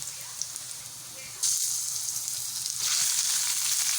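Meat frying in a pan with browned onion and garlic, a low sizzle that jumps louder as the meat goes in and swells again toward the end, steady and close.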